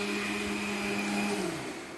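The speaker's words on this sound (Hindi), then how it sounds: "पीछे से मिक्सर की आवाज़ आ रही है" A kitchen mixer grinder whirs steadily at high speed with a constant motor hum, then its pitch begins to drop slightly toward the end.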